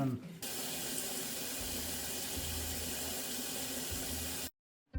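Water pours steadily into a DIY greywater tank as a constant hissing rush, loud and close, running for several seconds before stopping abruptly.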